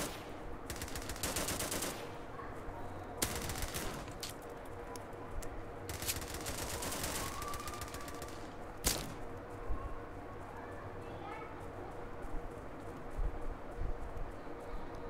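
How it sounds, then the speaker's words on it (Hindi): Shotgun blasts in the Kuboom shooting game, several sharp loud reports spaced a second or two apart amid rapid gunfire bursts and background game noise. "शॉटगन गन देखते हैं कैसी है गाइस।"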